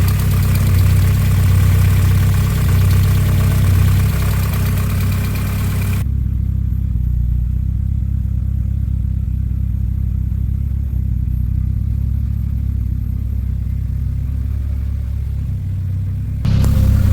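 Toyota AE86 with a 4AGE engine idling as it warms up, a steady low rumble throughout, louder and rougher in the first seconds before settling into a quieter even idle.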